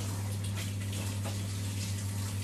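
Low-pressure tap running steadily while rinsing a dog during a bath, a continuous soft splashing water flow over a constant low hum, with no talking.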